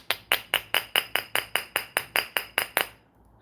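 Fourteen evenly spaced metallic taps on a stainless steel object with a glass part and a stainless steel coil, each a bright, close, ringing click in a steady rhythm, then quiet at the end.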